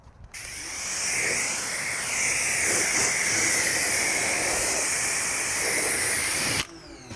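A pressure washer sprays a rinse over a brand-new Mini Cooper, giving a steady, loud, broadband hiss of water jet that holds continuously for several seconds before cutting off abruptly near the end.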